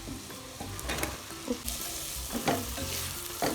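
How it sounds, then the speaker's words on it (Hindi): Chopped onions fry with garlic, ginger and green chili in a pan, a soft steady sizzle broken by a few stirring scrapes and clinks of a spoon, with no voices. "अब हम इसमें डाल रहे हैं 2 चॉप्ड अनियंस।"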